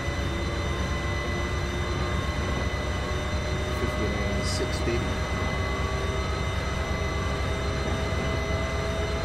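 Diesel trains racing in the Transport Fever video game make a dense, steady rumble with engine drone and tonal hum under a commentator's voice, plus a short high squeal partway through.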